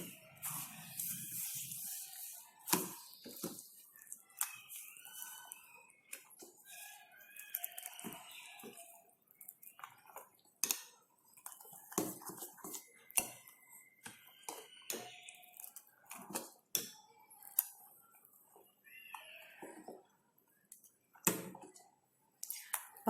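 Batter is mixed in a bowl, giving irregular soft scraping, wet swishing and light tapping of a utensil, close and fairly quiet with uneven pauses, and no one talking.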